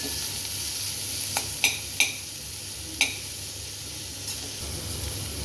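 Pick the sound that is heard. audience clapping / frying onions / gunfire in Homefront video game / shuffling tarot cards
frying onions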